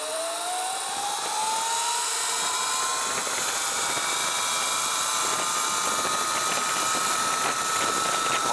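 An Electro & CO EMXRON-powered Sur Ron Light Bee electric dirt bike at wide-open throttle, its motor whine rising steadily in pitch over a constant loud rush of wind and drivetrain noise, with no talking.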